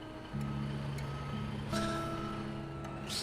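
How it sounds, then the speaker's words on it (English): A logistics truck's reversing alarm in the video game Foxhole beeps steadily in a steady rhythm over a low engine rumble, moderately close. "I hear the sound of the Logi truck"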